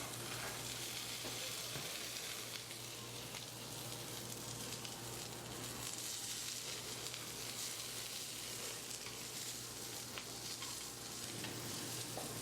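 Shallots sizzle in a pan, a faint continuous crackling fry with soft stirring scrapes and a low steady hum underneath, heard alone without any talking.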